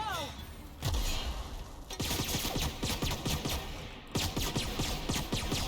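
Gunfire in the video game The Outer Worlds: rapid repeated shots in dense bursts with short gaps, loud and sustained over several seconds, with no speech.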